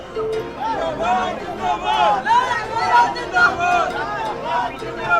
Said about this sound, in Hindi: काफी भीड़ है लोगों की, एक झलक पाने के लिए किस तरीके से पड़ रहे हैं वहां पर